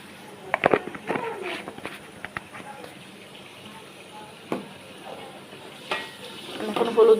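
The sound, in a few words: stirring beef curry in pan after adding water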